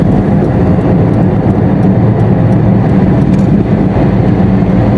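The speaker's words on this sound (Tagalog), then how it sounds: "iba na po ang tunog ng sasakyan natin." Car engine running with an unusual sound, heard as a loud, steady drone with a constant low rumble that never lets up, and no talk over it.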